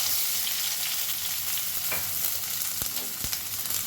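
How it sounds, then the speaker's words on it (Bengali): Onions fry in hot oil with black cumin, a loud, dense, continuous sizzle broken by a few scraping stirs of the pan toward the end. "এবারে পেঁয়াজটাকে খুব ভালো করে লাল লাল করে ভেজে নেব।"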